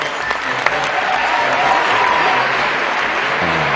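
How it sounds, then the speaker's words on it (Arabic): Studio audience on the Arab Idol singing competition breaks into loud, sustained applause, a dense steady wash of clapping for several seconds. "صفقوا لك"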